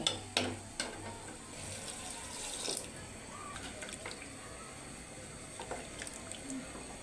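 Water is poured into a pot of haleem cooking on the stove, a faint splashing and trickling that runs for a few seconds and then fades into quiet kitchen background.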